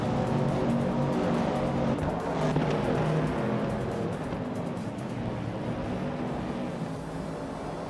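Race car engines drone continuously in a racing video game, a dense, steady roar of multiple cars running close together, with no talking over it.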